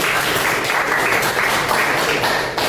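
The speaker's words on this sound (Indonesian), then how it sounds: "Tepuk tangan dulu." Classroom applause at a vocational high school, a group of students clapping together in a dense, steady burst that stays loud and close before tailing off slightly.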